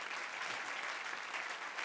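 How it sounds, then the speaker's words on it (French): A church congregation claps during a worship service, a fairly quiet but even wash of applause that carries on without any speech over it. "On peut donner une bonne main d'acclamation."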